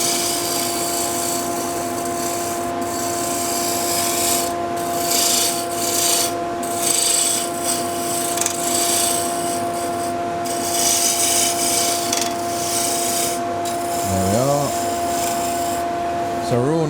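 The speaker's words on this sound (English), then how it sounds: "So just nice gentle cuts with the rough and gouge." A roughing gouge takes gentle cuts on wood turning on a lathe, making a continuous close rasping rub over the motor's steady hum, with brief rises in scraping.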